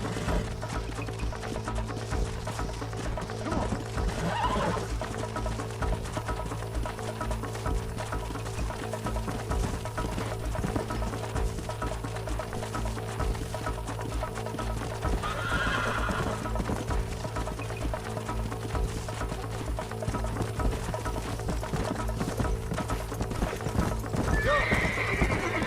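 A horse gallops continuously in Red Dead Redemption, hooves drumming in a dense steady rhythm, with several whinnies rising over the hoofbeats and a faint voice in the background.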